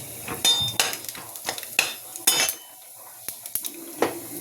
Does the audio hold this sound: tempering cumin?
yes